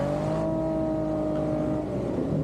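A Jeep's 3.6 Pentastar engine drones steadily in snow, a loud, sustained mid-pitched hum that hardly changes in pitch across the short stretch.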